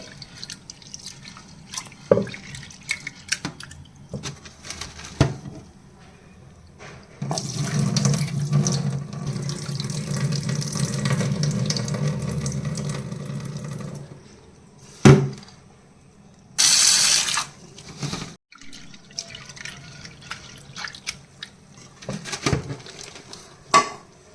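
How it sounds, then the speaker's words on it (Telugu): Lentils washed in water in a kitchen vessel, with close sloshing and dripping, a long steady stream of running water from a tap in the middle, and scattered clinks of the pot, no voices. "పప్పుని ముందైతే వాష్ చేస్తున్నాను ఒక టూ త్రీ టైమ్స్ వాష్ చేసుకోవాలండి"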